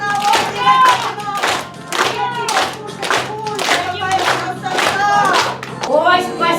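Audience at a children's show claps for performers dressed as frogs, a steady close wash of hand claps with rhythmic bursts and a singing or chanting voice running over it throughout.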